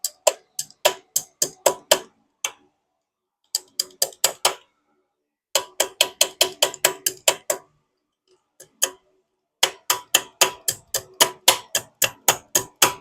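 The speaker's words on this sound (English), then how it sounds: "Make sure you use your best 10-inch crescent hammer." Repeated hammering with a 10-inch crescent wrench to bend over a locking tab on the rear axle bolt of a Kawasaki KLX 110 pit bike, sharp metallic strikes falling in rapid bursts of ten or more, separated by short pauses, close and loud.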